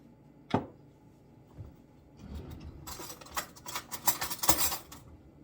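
Spoon scraping cashew butter while measuring it for vegan fudge brownies: a single clink early, then a cluster of close scraping and clattering taps against the jar, moderately loud.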